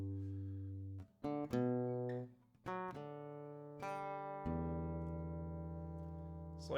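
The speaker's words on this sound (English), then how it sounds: "But there's also one bass kind of thing going on in this song." Acoustic guitar picks the bass line of a song, a few single low plucked notes ringing out with pauses between them, played softly and alone.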